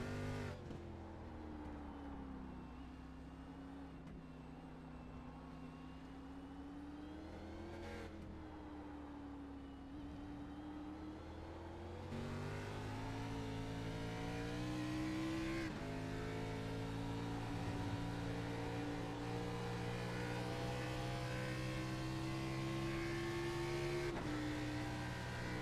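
Race car engine on the Indianapolis Motor Speedway road course during the Brickroad 150, droning steadily with shifting revs, then surging louder as it accelerates hard through the gears.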